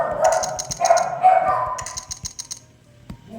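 Dogs bark repeatedly at close range, sharp bursts with short pauses, a few quick yips in a row toward the end.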